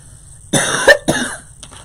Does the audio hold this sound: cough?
yes